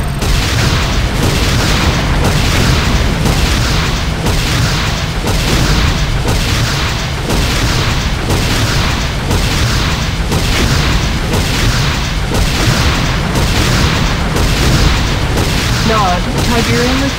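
Structures exploding in the Command & Conquer Renegade video game: continuous loud booms and heavy blasts that pound in a regular pulse beneath a dense roar of battle, with no pauses.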